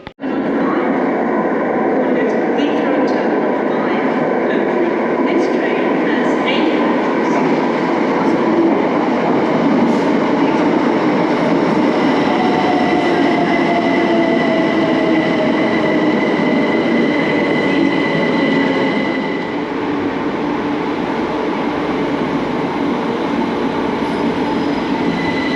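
The Heathrow Terminal 5 transfer train runs with a continuous, loud roar of wheels on rail, squealing and steady rumble throughout, easing slightly near the end, with no voices.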